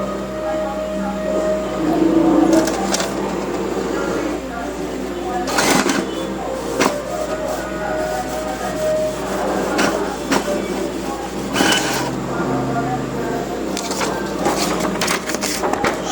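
A Brother DCP-T720DW ink tank printer runs a test page, giving off a chain of mechanical clicks, clunks and whirring feed bursts at close range while someone talks over the machine.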